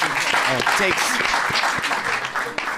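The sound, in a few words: audience applause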